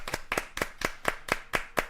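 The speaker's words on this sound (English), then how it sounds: "Shout out to Capcom. Yep. Clap it up." Brisk hand clapping, about eight sharp claps in a steady, quick rhythm, close and clear with no talking.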